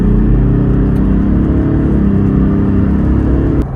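A Toyota Land Cruiser LC300 VX engine pulls steadily under acceleration, heard from inside the cabin as a loud, continuous low drone with a rising whir and no one talking.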